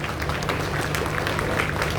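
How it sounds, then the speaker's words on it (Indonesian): Schoolchildren at a Monday flag ceremony at SD Negeri 1 Wonorejo applaud the ceremony officers, a dense, steady clapping of many hands outdoors, fairly loud and continuous. "Anak-anak, mari kita berikan aplaus semangat terlebih dulu kepada petugas upacara hari"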